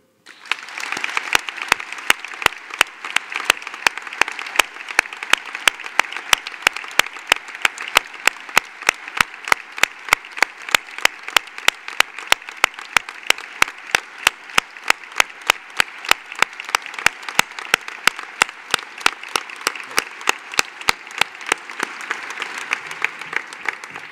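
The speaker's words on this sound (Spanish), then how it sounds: "Y ahora mismo pediría un aplauso en su memoria." An audience at a civic ceremony applauds in memory of a victim of ETA violence, a long, steady clap with a rhythmic, nearly unison beat that fades near the end.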